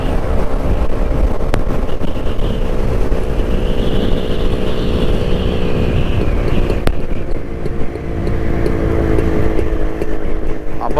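A vintage Jawa motorcycle, tuned with points, rides at about 100 km/h, its engine droning steadily under loud wind rush throughout.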